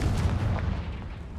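Explosive spells such as Bombarda and Confringo cast in Hogwarts Legacy, a rumbling low boom with a dull blast that rolls on throughout, steady and moderately loud.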